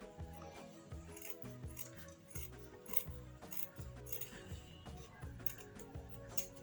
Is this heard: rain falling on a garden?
no